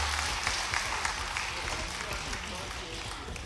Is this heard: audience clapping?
yes